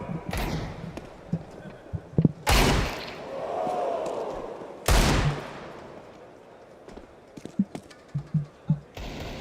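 Two heavy, booming pistol shots from Desert Eagles in a Counter-Strike match at a pro tournament, spaced a few seconds apart, with smaller clicks and thuds and a commentator talking around them.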